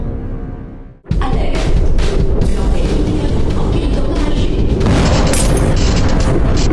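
Grenade explosions roar in a combat scene: after a low rumble, a sudden heavy boom breaks in and a loud, sustained blast and crashing debris fill the rest, with no speech over it.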